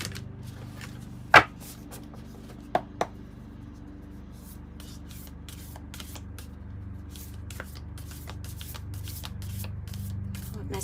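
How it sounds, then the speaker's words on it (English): A tarot deck from Kim Krans's Wild Unknown Archetype and alchemy decks is shuffled by hand. A couple of sharp snaps come early, then a long stretch of quick, crisp card flicks and riffles, close up, with no talking. "Just get a good shuffle."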